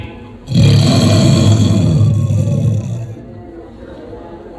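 A voice imitates a tiger's roar: one long, low, rumbling growl held for about two seconds, close and loud, then fading out.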